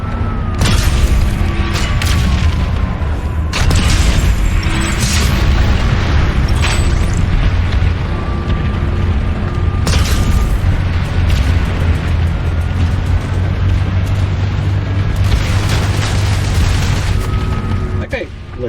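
Anti-aircraft weapon fire hits a Magrider hover tank in the sci-fi shooter Planetside 2: loud, dense booms and thudding impacts pound nonstop over a heavy engine rumble, with sharper cracking bursts scattered throughout.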